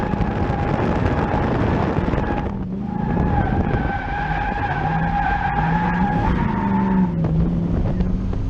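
A raven black 1965 Ford Mustang drifts at a Queensland Raceway track-day session, its tires screeching loud and continuous over the roaring engine, with a brief dip before the squeal resumes.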